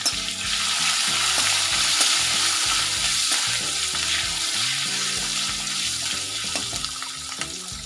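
Asafoetida, curry leaves and chopped green chillies frying in hot oil, a dense, steady sizzle that stays loud throughout, with a melodic background tune underneath.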